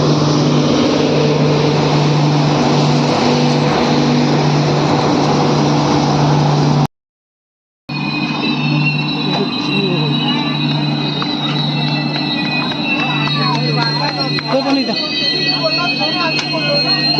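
The Mandovi Express rolls into a station with a loud, continuous rumble and hiss. A brief dropout breaks the sound partway through, then the heavy train noise returns, and speech is audible over it.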